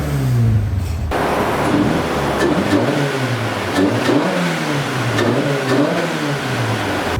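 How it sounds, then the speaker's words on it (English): A turbocharged Toyota AE86 engine with a Haltech Elite ECU revs hard on a dyno, loud and close, its pitch sweeping up and down through several repeated pulls with no talk. "we're gonna give him a nice few revs of surprise"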